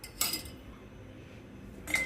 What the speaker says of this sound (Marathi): आता इथे मी कढई तापायला ठेवली आहे